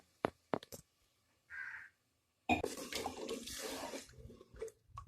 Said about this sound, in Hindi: तो इसमें मैं 2 गिलास पानी डालूंगी